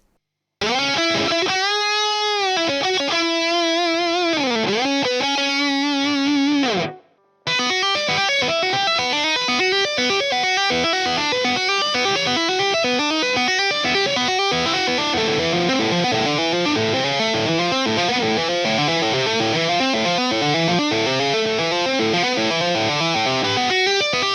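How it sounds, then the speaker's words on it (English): A heavily distorted electric guitar, played through a Marshall DSL20H amp, plays a fast, sustained solo with a lush, reverberant tail, loud throughout apart from a brief gap near the start. "if you just turn up a little bit of reverb, it's got a really nice lush sort of sound for solos"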